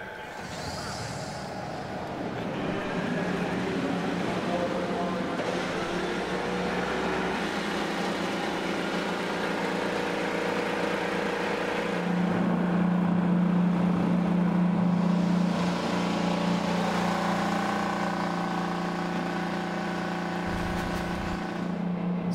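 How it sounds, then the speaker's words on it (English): IndyCar race car engines at Indianapolis Motor Speedway fire up and settle into a loud, steady idle, a dense mechanical rumble with a low hum that swells briefly midway, alongside crowd and PA ambience. "Drivers, start your engines."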